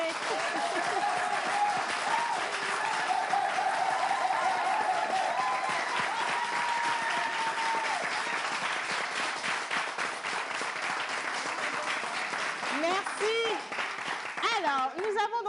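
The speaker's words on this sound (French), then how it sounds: "Merci d'applaudir notre deuxième invité." Studio audience applauding to welcome the second guest on a French talk and music show, a steady dense clapping lasting throughout, with a voice briefly audible beneath it.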